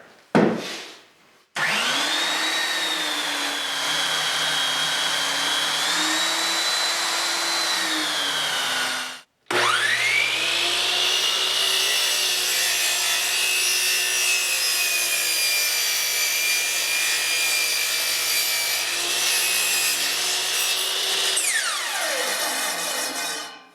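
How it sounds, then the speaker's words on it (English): A belt sander grinds dried glue off a box-jointed wooden canister with a loud, steady whine. It cuts out briefly, then restarts and runs continuously. "so I'm gonna remove the majority of it with the belt sander"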